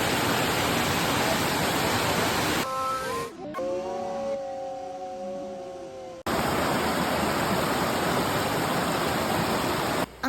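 Kawasan Falls in Cebu pours with a steady, loud broadband roar that briefly drops away midway, leaving a quieter stretch with a faint tonal hum before the rushing water returns at full strength.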